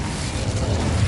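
An Incendio fire spell cast in Hogwarts Legacy, a brief loud whooshing burst of fire with a low rumbling roar, heard alone.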